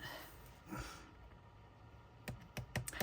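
Paper being cut for a junk journal with Stampin' Up! supplies, close and quiet: a faint snip early on, then a cluster of sharp crisp clicks and cuts toward the end.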